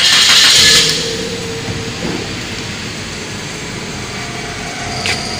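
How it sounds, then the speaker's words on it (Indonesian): A car engine cranks and catches for an emission test, a loud starting burst in the first second that settles into a steady idle rumble, with a brief higher rev toward the end. "nyalakan mesin."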